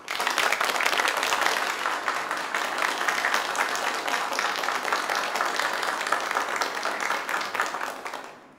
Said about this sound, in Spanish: brindar un aplauso muy merecido a sus nuevos compañeros